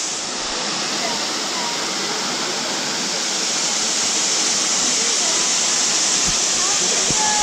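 A waterfall roars as a loud, dense, unbroken rush of falling water heard from close by, steady throughout.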